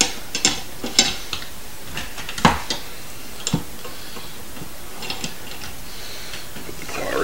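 A metal rotisserie spit claw is pushed onto the spit and tightened against a whole chicken, giving a few sharp metallic clicks and scrapes spaced irregularly over low steady background noise, close and moderately loud, with no talking.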